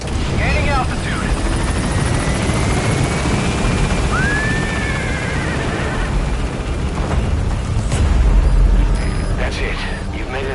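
The Pequod helicopter from the game Metal Gear Solid climbing away, a loud, constant rotor roar and whine filling the scene, with brief radio-style voice chatter and electronic tones over it.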